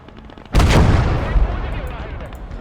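Gunfire in the video game Blood Red Snow erupts as a heavy, booming volley with a long rumbling tail, with scattered faint shots behind it and some speech in the mix.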